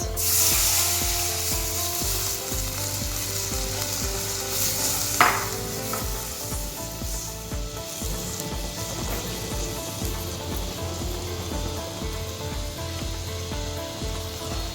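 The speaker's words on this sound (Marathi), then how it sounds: "आपण आता घालतलो नारळाचो पातळ काढलेलो रस" Thin coconut milk goes into a simmering sandge curry in a pan, with continuous bubbling sizzle, stirring scrapes and a brief pouring burst near the middle.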